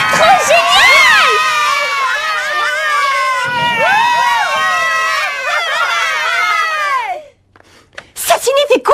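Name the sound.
children shouting and cheering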